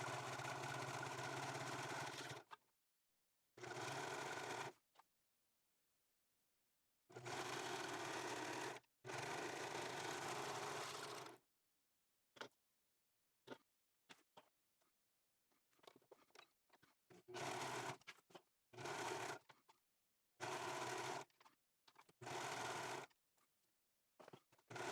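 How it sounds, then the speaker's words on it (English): A domestic sewing machine bastes two fabric panels for a tote together at a 1/8 inch seam allowance, running in several loud, steady bursts separated by silent pauses, with shorter, choppier runs toward the end. "you're going to baste these two panels together using a 1/8 inch seam allowance"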